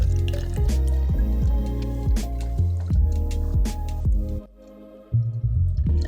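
400 ml of vodka poured into a sous vide bag already holding 120 ml of oil, a steady close liquid stream with dripping and splashing that breaks off briefly near the end before resuming.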